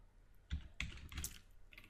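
A few close computer keyboard keystrokes as a command is typed, with clustered clicks around the middle of a short quiet stretch and no talking.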